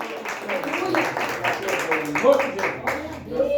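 A church congregation claps in a steady, even rhythm, the beat running close and continuous beneath people talking.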